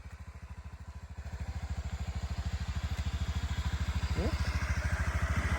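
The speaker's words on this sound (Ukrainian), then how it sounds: "По роботі двигуна все повністю ідеально, тихенько працює." A Honda Dio 110 fuel-injected scooter engine idles with a fast, even putter, close and steady, its pulse growing slightly louder partway through.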